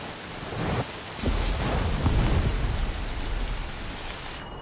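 Heavy rain hisses steadily through a video game thunderstorm, with low rumbling thunder swelling in the middle and a dull crack early on, all close and dense with no voices.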